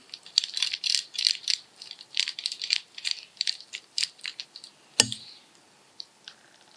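A bicycle chain on a Wilier flat-bar bike is pulled through the derailleur jockey wheels, making close, rapid metallic rattling and clicking in quick bursts, ending in one sharp clack and then quiet ticks.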